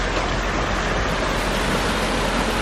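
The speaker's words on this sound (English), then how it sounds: "We're at a waterfall here." Water roars steadily at a waterfall reached by Jeep on a snowy off-road trail, a loud, dense, unbroken rush filling the scene, close and constant with no voices over it.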